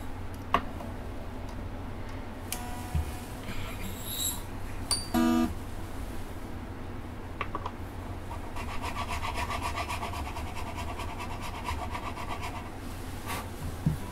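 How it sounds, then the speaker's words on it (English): A file working string slots in a bone guitar nut, soft close rasping strokes under a steady noisy background, with a few faint ticks and taps between passes. "So very carefully file that at a slight angle."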